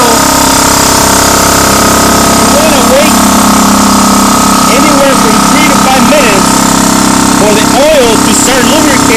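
A 3HP 220V high pressure air compressor for scuba tank filling starts and runs, a loud steady mechanical hum and pumping drone with some squeaky tones over it.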